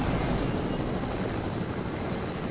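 A helicopter flies in the Fortnite video game, a steady, loud, broadband roar of rotor and engine that holds at constant strength throughout, with no talking.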